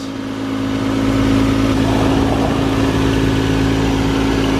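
A 1991 Toyota Supra MK3 with its 1JZ engine runs steadily at a near, even idle, a constant mid-pitched hum with a strong low drone and no other voices.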